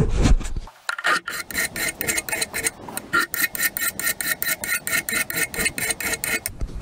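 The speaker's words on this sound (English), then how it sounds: "we'll just gently file the back surface to take those burrs off" A hand file is drawn flat across the back face of a vintage oil fitting to take off burrs. Evenly spaced rasping strokes repeat in a steady rhythm, close and clear, after a short rustle at the start.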